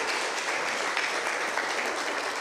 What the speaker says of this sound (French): on vous donne une petite main d'applaudissement pour vous remercier